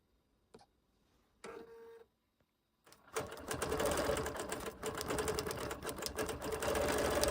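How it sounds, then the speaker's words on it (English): A sewing machine stitching a quilt: after a few brief clicks and a short hum, the motor starts and runs in a steady, close, rapid rattling drone to the end. "So let's stitch it out and see what happens."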